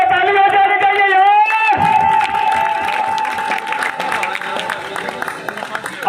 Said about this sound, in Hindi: सेक्शन वालों ताली बजाओ यार अब्बास के लिए